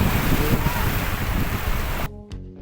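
Ocean waves surge into the rocky Cabongaoan Death Pool on the Philippine coast, a loud churning wash that cuts off abruptly near the end, leaving only a brief quieter moment.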